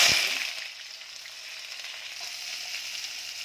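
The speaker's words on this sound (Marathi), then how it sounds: "आता मी कांदा टाकत आहे" Onion hitting hot oil already spiced with cloves, peppercorns, cinnamon, green cardamom and bay leaves while cooking chole masala: a sharp sizzle at the start settles into a steady, close frying hiss with no talking.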